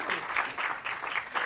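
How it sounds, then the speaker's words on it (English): Brief, lively clapping from a small audience at a short-film preview event for the director and team, rhythmic bursts of hands at close range with a faint cheer mixed in. "Huge round of applause for the director and the team"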